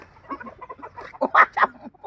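A rooster clucks in a quick series of short, close calls, rising into a couple of louder squawks near the end.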